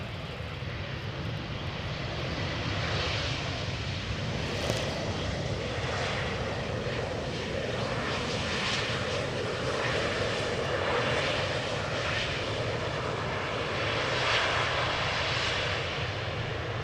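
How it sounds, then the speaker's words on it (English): An Aeromexico Boeing 787-8 Dreamliner arriving from Mexico City roars steadily with a broad, sustained jet engine rumble that swells and eases slightly as it passes. "Aero Mexico Dreamliner in the background. Coming next, flight 25, arriving from Mexico City, 7878."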